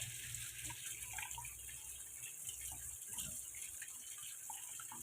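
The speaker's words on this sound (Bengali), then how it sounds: "ধোয়াই থাকে তাও একবার কাটার পর ধুয়ে নাই ভালো" Tap water runs steadily over bitter gourd being rinsed after cutting, a low continuous gush with faint splashing throughout.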